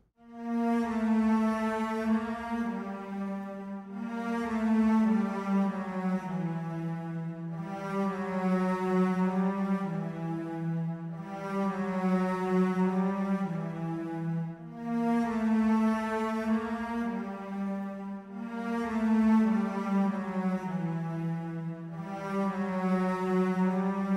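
A bowed string melody in a low tenor register, sustained and smooth, with phrases swelling and pausing every few seconds, played alone.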